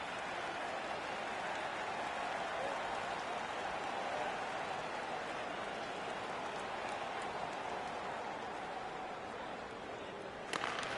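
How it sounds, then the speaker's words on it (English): A home crowd roars steadily at an NHL 16 hockey game, a dense continuous wash of cheering that stays loud throughout with a brief louder burst near the end. "The home crowd is pretty excited about that."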